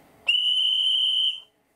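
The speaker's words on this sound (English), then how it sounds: "We have a short whistle and a long whistle" Steady, clear electronic whistle from an O gauge model German locomotive, one sustained tone lasting just over a second, close and loud against near silence.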